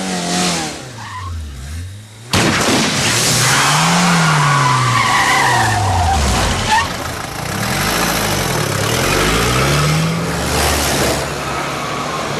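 A car in a thriller chase scene, its tires squealing in long sweeping wails over a revving engine as it skids to a stop, loud and close, following a quieter opening.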